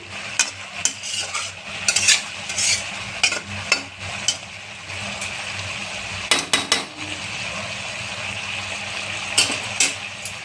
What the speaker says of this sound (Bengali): নেড়ে চেড়ে যাতে সিদ্ধটা ভালো করে হয়ে যায়